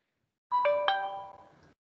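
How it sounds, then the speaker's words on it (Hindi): A phone notification chime sounds once, a bright two-note ding ringing out clearly for about a second before fading, with no talking over it. "बघ नोटिफिकेशन आलं असेल तुला"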